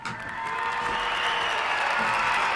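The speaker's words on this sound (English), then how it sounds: "I could probably cheer." Steady crowd applause with some cheering rises after a quiet start and holds loud and dense, ringing out during a live Saturday magic gameshow.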